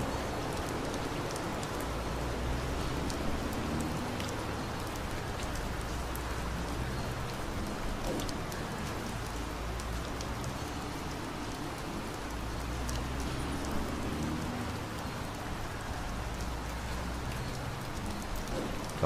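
Steady simulated rain in Euro Truck Simulator 2, a dense continuous hiss of drops on the truck with a low rumble beneath, heard from outside the cab and holding even for the whole stretch without talk.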